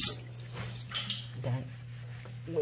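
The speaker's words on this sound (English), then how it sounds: "Then we rinse." Water rinsing a shower stall after scrubbing with brushes, a soft running splash with a few drips and spatters, close and fairly quiet, with a low steady hum beneath.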